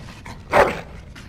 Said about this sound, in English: Bloody dog.